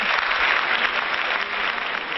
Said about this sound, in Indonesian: tepuk tangan sekali lagi buat kita semuanya